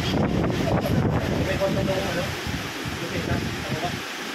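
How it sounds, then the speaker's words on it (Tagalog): Strong wind buffeting the microphone in a steady rushing roar, gusting slightly, with muffled voices faintly underneath. "Doon na nanggagaling sa baba ang hangin eh."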